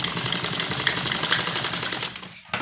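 A sewing machine stitches V-shape umbrella frock pieces together, racing in a close, rapid, even clatter that cuts off abruptly for a moment near the end before resuming.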